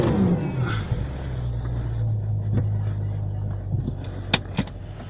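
A car with a supercharged engine and a gas pedal stuck under the floor mat, starting then idling in a low steady rumble, close and fairly loud, with a few sharp clicks toward the end.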